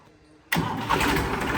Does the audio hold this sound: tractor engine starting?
yes